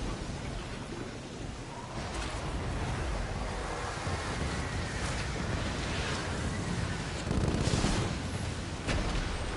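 Rough, stormy sea waves from the naval game Skull and Bones surge and crash steadily, with wind rushing over the water and a few louder swells breaking near the end, no voices.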